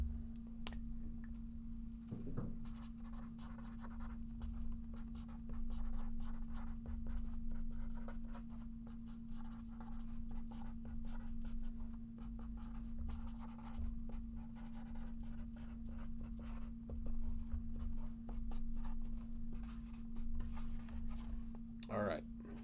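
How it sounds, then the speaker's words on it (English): A card being signed by hand with a pen, the scratch of writing running steadily and quietly beneath a constant low hum from the room. "Let me sign this for Sarah."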